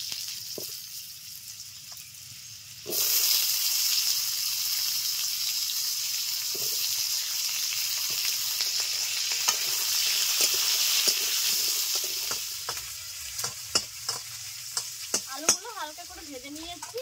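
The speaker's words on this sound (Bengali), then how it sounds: "চিংড়ি মাছ ভাজার তেলেই আলুগুলো হালকা করে ভেজে নেব।" Potatoes fry in oil left from frying prawns: after a quieter start, a loud, steady sizzle bursts up and continues, with occasional stirring clicks and scrapes near the end.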